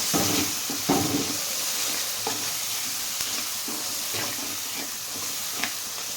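A spoon stirs a biryani mixture of broad beans and salt in a hot pot. It scrapes and clinks steadily against a continuous close sizzle and hiss of frying, with no talk.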